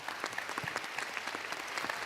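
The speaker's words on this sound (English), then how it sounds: "please join me in a warm round of applause for our panelists and their insights" Conference audience at a morning plenary session applauding panelists: dense, steady clapping from a large crowd, even and sustained throughout.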